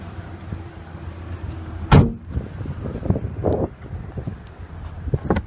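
A sharp thump of the trunk on a 2015 Nissan Altima S releasing, close and brief, with faint wind noise and some shuffling and rustling afterward.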